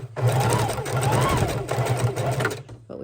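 Sewing machine stitching green paper onto a miniature junk journal page, a loud, close, steady buzzing hum that runs nearly throughout before cutting off at the end.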